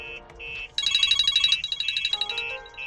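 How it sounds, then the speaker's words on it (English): A phone ringtone plays close by as a BMW 4 Series app-controlled alarm system calls, a bright electronic melody of repeating tones that shifts into a quicker pulsing pattern. "As you can see, the phone's ringing."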